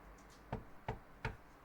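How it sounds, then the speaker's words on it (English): Three sharp, evenly spaced knocks on a door in the video game Shutter Story, close and distinct against a quiet background. "We knocking."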